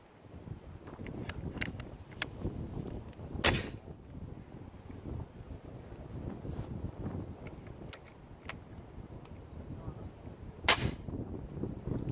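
An ATA Airborne air rifle fitted with a silencer fires two sharp, fairly loud cracks several seconds apart over a low, windy outdoor rumble.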